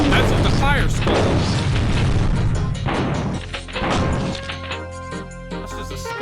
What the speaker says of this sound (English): That's just a skull that shoots fire.